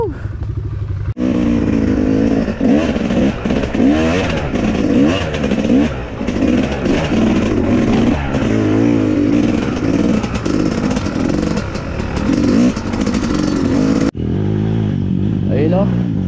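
An XR-style motorcycle fitted with a Rusi engine runs steadily while riding on a road, with a loud, continuous engine drone and wind buffeting close to the microphone. Someone speaks over it.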